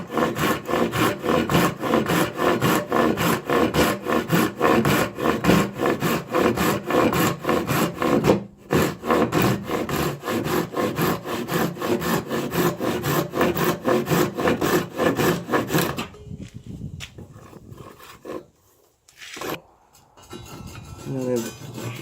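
A Japanese handsaw cuts a timber-frame tenon in wood with fast, rhythmic, rasping strokes up close for about sixteen seconds, then a few quieter scrapes and pauses.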